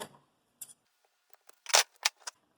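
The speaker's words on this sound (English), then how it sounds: "Once you get to the overlap, just cut it." Scissors snipping clear packaging tape, a few short, sharp crisp cuts and clicks spaced apart in a quiet room, close and fairly faint.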